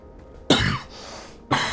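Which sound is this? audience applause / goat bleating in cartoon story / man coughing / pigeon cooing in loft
man coughing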